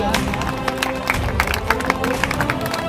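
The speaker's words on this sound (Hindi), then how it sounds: "जोरदार ताली से स्वागत" An audience applauds to welcome a doctor onto the stage at a sub-junior Delhi state championship event, with steady clapping and crowd murmur through the whole stretch.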